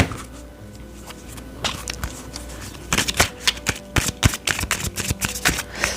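Tarot cards are shuffled and drawn close by, with soft riffling at first, then a run of crisp, rapid card flicks and slaps.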